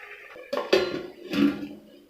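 A lid set on a cooking pot of githeri gives a couple of short metallic clanks and rattles, close and fairly quiet, over a still background.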